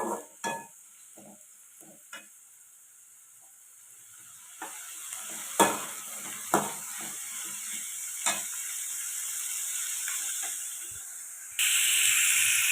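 Small onions are sautéed in oil in a pan, with a continuous hissing sizzle broken by scattered spatula scrapes and taps. The sizzle swells sharply louder near the end, close by, with no speech.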